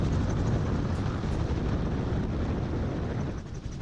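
A gyrocopter glides with no engine power, its rotor giving a steady, loud whooshing drone that holds evenly throughout with no speech.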